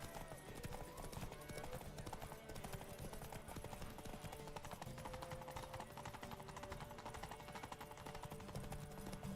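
The horse Roach gallops in The Witcher 3 with a steady, rapid clip-clop of hooves that runs the whole time, moderately loud, layered with game music and ambient noise.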